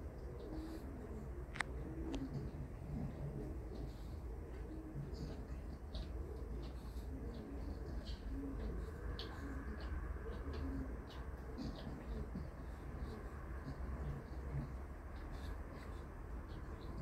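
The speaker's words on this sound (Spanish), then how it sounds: "Mira lo que hace esa paloma" A pigeon coos in repeated soft, low murmurs over steady outdoor background noise, with faint scratchy sounds nearby.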